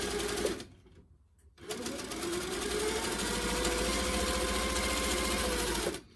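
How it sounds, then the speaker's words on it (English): A sewing machine runs fast while quilting a Flower Power quilt block. It starts with a brief burst, goes quiet for a moment, then gives a loud, steady, close-up whirring hum that continues unbroken to the end with no voices. "Now you might hear I've got that machine going pretty fast"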